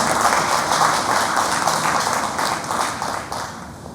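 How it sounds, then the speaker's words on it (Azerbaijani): Sustained audience applause in a hall welcoming an Azerbaijani language teacher to the stage, dense clapping that holds steady and then gradually thins toward the end. "Gəlin Yegane Xanımı alqışlarla qarşılayalım."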